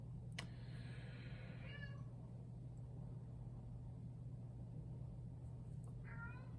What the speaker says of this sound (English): that's my cat, he's calling out to me